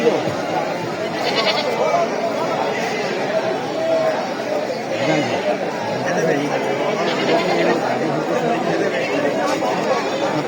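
Goats bleat repeatedly among the busy chatter of a crowded traditional goat market at Baradi, the animal calls mixed into a continuous murmur of many voices nearby.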